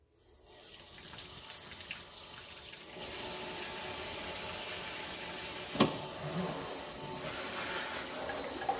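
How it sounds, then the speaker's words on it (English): Water pours steadily from a tap or watering can onto potted houseplants, a continuous hiss and splash heard close up, with a brief knock partway through. "You guys can watch me water."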